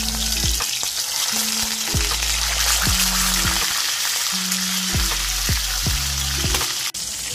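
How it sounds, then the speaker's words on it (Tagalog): Salmon pieces frying in hot oil, a steady loud crackling sizzle with dense popping spatter, joined by a few sharp clanks of utensils against the pan. "Magpiprito muna tayo ng ating fish salmon."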